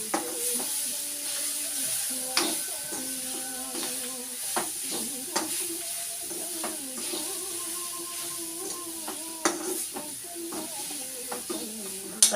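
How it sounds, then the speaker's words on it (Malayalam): Clam meat frying in plenty of oil, sizzling steadily while a spoon stirs and scrapes the pan in irregular clanks and knocks, close and fairly quiet. "ഇളക്കി കൊടുക്കുക. നല്ലപോലെ ഫ്രൈ ആവണം."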